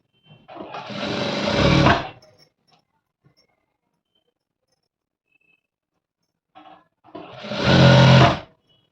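A sewing machine stitches dress fabric along a side slit in two loud, close bursts, each about a second and a half of steady mechanical whirring, separated by several seconds of near silence.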